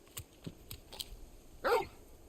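A large hound companion in Final Fantasy XVI gives a single short bark after a series of faint, light clicks. The bark is moderately clear against a quiet background.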